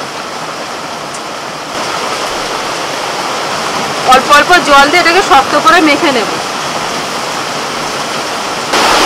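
Sudden heavy rain pours steadily in a continuous loud wash, while a person speaks over it from close by.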